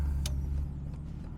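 A Jaguar XJS V12 engine, lightly modified, rumbling low and deep as it revs briefly, heard from inside the car.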